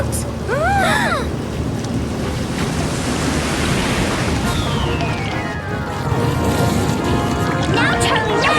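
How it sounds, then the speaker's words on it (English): Loud rushing, surging water flooding through pipes after a plumber turns on the water to test a blockage, a continuous roaring wash with swirling, whooshing movement and brief high chirping squeaks over it. "Let's run the water, see if that blockage is still there"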